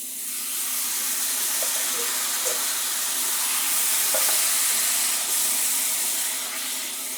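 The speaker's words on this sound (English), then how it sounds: "Now already the juice from this pineapple is starting to deglaze the pan" Crushed pineapple in its own juice sizzling in a pan with pork as it deglazes, a steady close hiss and bubbling crackle with faint stirring scrapes and no talking.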